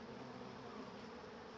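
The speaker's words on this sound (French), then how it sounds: "Et voilà les frelons qui se reprennent la tête là. Ils sont aussi là-dessous. Bon, ils essaient d'attraper des abeilles," Asian hornets hunting honeybees around a beehive, a constant, faint, dense insect buzzing and droning hum with no pauses.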